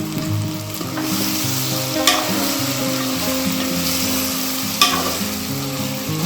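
Brinjal pieces for an Andhra stuffed brinjal curry fry in a pan with a spoon of turmeric, giving a loud, continuous sizzle with stirring and two brief spoon clinks against the pan, close up and without talk.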